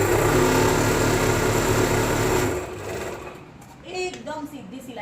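A sewing machine stitching salwar fabric runs loud and steady for about two and a half seconds, then stops, and someone speaks over the quieter remainder.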